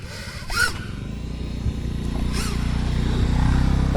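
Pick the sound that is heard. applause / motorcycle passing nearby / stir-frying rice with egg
motorcycle passing nearby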